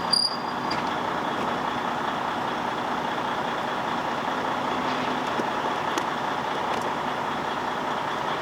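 A pickup truck engine idles steadily after starting, a low, continuous rumble at moderate distance with faint insect chirps in the background and no talk.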